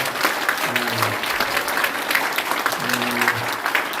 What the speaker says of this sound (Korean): 여러분 한번 큰 응원의 박수 예, 부탁합니다